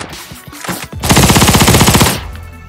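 Loud, close burst of rapid automatic gunfire in a video game, a dense continuous rattle lasting about a second after a few scattered shots.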